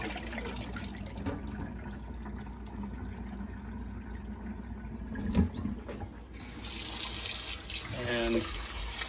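Cold tap water runs steadily into a bowl for rinsing brined boneless, skinless chicken thighs, a continuous close splashing wash that grows louder and brighter near the end as the bowl fills.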